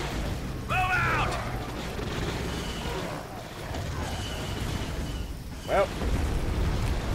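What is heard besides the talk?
gunfire and explosions in video game Star Wars Battlefront Commander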